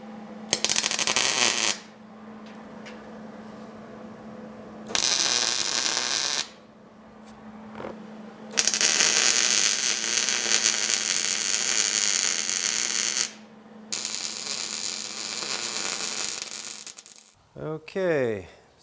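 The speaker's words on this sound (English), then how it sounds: "give me a minute to go ahead and get these all welded on" Welding wheels onto the steel legs of a car rotisserie in a garage: several loud, crackling arc bursts of a few seconds each, separated by quieter gaps with a steady electrical hum underneath.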